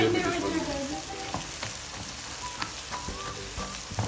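Scrambled eggs and peas cook dry in a pan with a soft, continuous sizzle and occasional light stirring, fairly quiet and close.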